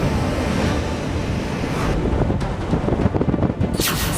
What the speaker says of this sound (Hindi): समुद्र में उठती ऊंची ऊंची लहरें,